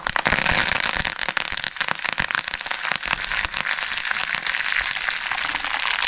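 Loud, dense crackling and popping of mustard seeds and curry leaves spluttering in hot oil, a rapid, sharp stream of pops throughout.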